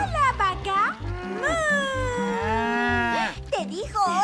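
A cow moos in a long, drawn-out call on a farm, loud and close, with a voice chattering around it before and after.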